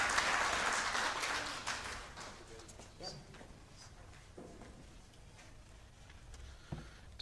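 Applause from a theology conference audience starts fairly full and quickly thins out into scattered, fading claps, with a few isolated knocks and thumps afterward.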